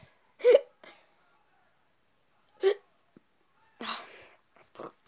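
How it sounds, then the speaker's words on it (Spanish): Four or five sharp, separate hiccups spaced unevenly over several seconds, close and fairly quiet in an otherwise silent room. "¿Por qué tengo hipo?"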